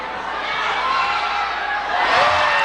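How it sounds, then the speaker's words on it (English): Basketball arena crowd noise swells into cheering during a game, a steady broadband roar that rises louder near the end, with a commentator's voice faintly mixed in. "Bonell has woken up the crowd here with his acrobatics."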